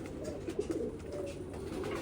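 Jamuni pigeons, a brownish fancy breed kept by a breeder, coo in low, soft murmuring bursts close by, a steady layered cooing that rises and falls over a faint background hum.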